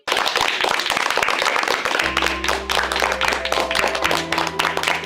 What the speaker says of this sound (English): Let's give Kate Clifford Larson a big round of applause, everybody